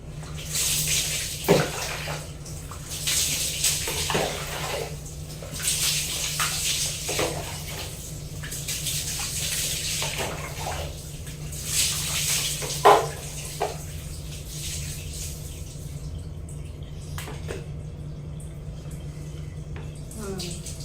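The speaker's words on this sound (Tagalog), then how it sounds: "So, diba, nabanlawan ko ng aking buhok." Water from a basin pours and splashes over hair in a bathroom, in repeated bursts of rinsing between quieter pauses, with a steady low hum beneath and faint talk.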